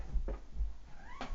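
A cat at a door, wanting to come in, gives one brief, high meow near the end, framed by a few soft knocks and thumps, fairly quiet with no talking.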